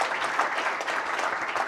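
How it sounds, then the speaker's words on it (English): Audience applause for a panel of speakers at a World Bank conference on the Africa region, steady dense clapping from a sizable crowd sustained throughout without talk. "please give a warm round of applause to my panelists"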